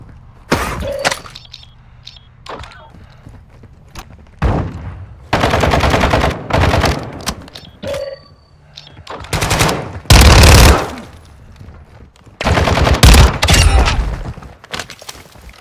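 Gunfire in Call of Duty Modern Warfare 2 DMZ: loud bursts of automatic fire and sharp shots come in several clusters, with thuds and breaking crashes between quieter stretches.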